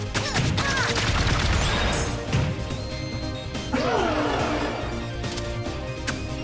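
Cannons fire on an airship in the Freedom Planet video game, with repeated crashing blasts and impacts over busy game music and effects.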